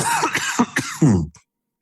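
A short burst of close coughing and throat clearing from a person on a podcast, several quick harsh hacks ending in a gravelly clear, then silence.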